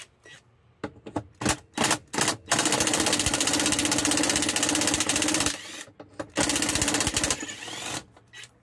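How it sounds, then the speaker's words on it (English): A pneumatic rattle gun (impact wrench), set to its lowest setting, works on a stubborn heater bolt on a 6x6 Land Rover Perentie ambulance, firing in short bursts and then longer loud hammering runs with brief pauses between. "Let's get the rattle gun off this in setting number one so we don't destroy anything."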